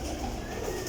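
Teddy golden pigeons with black tails, part of a large lot for sale at Sarai Alamgir, coo softly and continuously against a steady low background hum.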